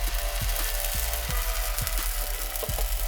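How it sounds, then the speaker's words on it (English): Gluten-free flatbread batter sizzles in a frying pan with a little grapeseed oil over a flame, a steady loud hiss with occasional low knocks from the pan. "Now I'm going to pour in about a 1/2 cup of batter."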